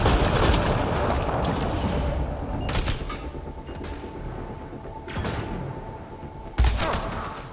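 Gunfire fills a Mass Effect Andromeda firefight on Voeld, with sustained loud rattling bursts broken by several sharp, heavy shots spaced a second or two apart.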